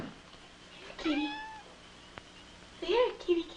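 A cat meows twice, the first a short rising call and the second a louder, drawn-out wavering meow a couple of seconds later, close by in a quiet indoor room.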